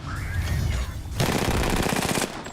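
Enemy gunfire in a shooter game: after a muffled stretch, a sudden rapid automatic burst rattles loudly for about a second, tightly repeated shots cutting off abruptly.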